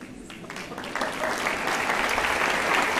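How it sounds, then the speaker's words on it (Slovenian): Steady, dense applause from a concert audience at a student choir's annual concert, loud and continuous, swelling slightly about a second in and holding full to the end. "Torej, darilo za avtorja Krištofa, še en velik aplavz, prosim."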